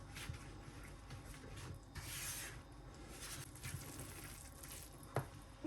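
Soft, sweet pie dough being mixed with a spatula in a bowl, giving faint, continuous rubbing and scraping with small wet squelches and one sharp knock near the end.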